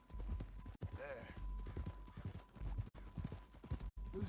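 Steady clip-clop of a horse's hooves walking at an even pace in the video game Red Dead Redemption 2, with a voice talking over it.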